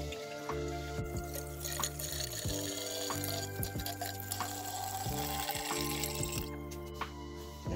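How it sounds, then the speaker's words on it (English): Excess water poured off precipitated silver recovered from circuit breakers, running and dripping steadily from a container at close range, with a few glassy clinks and no talking. "Let's decant this excess water here."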